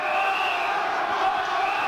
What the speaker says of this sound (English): Crowd beginning to enjoy this battle.